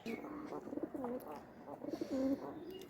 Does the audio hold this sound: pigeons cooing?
yes